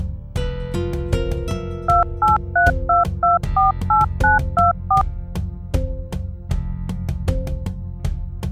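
Telephone keypad tones beep as a number is dialed, a quick steady run of short paired beeps over a background of plucked film music.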